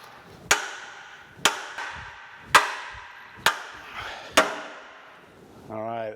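Five sharp, evenly spaced hammer blows ring out on the metal parts of a radial drill's universal table, each with a short metallic decay, followed by a brief low hum at the end.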